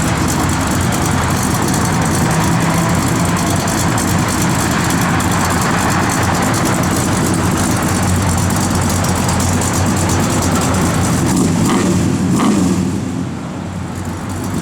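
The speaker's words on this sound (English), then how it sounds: "Tell you what, that car sounds good, man." A 1956 Chevrolet 210 engine idles with a steady, deep rumble, loud and close, for the whole stretch before easing slightly at the end.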